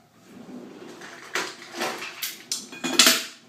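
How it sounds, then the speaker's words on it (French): A metal saucepan clatters down with a few sharp clanks against other cookware, close by and without talking. "je mets une autre casserole"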